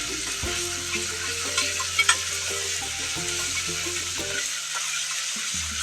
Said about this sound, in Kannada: ಚೆನ್ನಾಗಿ ಫ್ರೈ ಹಸಿ ಸ್ಮೆಲ್ ಎಲ್ಲ ಅಲ್ಲ ಬೆಳ್ಳುಳ್ಳಿ ಪೇಸ್ಟಿಂದು ಹಸಿ ಸ್ಮೆಲ್ಲು ಹೋಗಬೇಕು. ಅಷ್ಟರವರೆಗೂ ಫ್ರೈ ಮಾಡಬೇಕು.